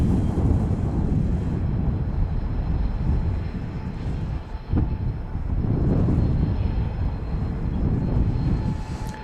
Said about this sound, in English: The Dassault Falcon 900 EX